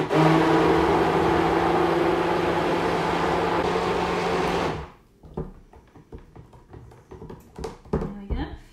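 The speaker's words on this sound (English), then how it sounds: "all I'm going to do now is give it a quick blitz" A blender whirs loudly and steadily for about five seconds, blitzing oils and almond butter for homemade almond and olive soap, then cuts off abruptly, leaving scattered clicks and knocks with a voice speaking.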